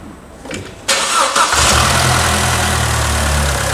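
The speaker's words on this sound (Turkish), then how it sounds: "Aracımızı çalıştırdık." An Opel Astra 1.4 turbo engine, freshly reassembled in a workshop, cranks briefly and catches, then settles into a steady, loud idle close by.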